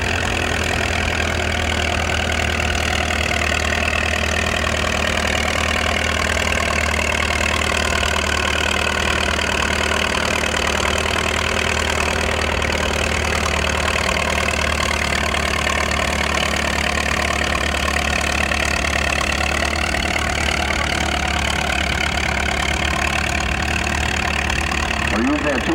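A tractor idling at a tractor pull, a steady low mechanical rumble that runs unbroken throughout, with an announcer talking over it.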